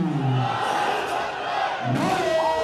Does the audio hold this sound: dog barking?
no